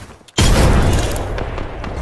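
A frag grenade detonates in a first-person shooter video game, a sudden loud blast after a brief quiet moment, then a sustained rumbling roar that slowly fades under faint game noise.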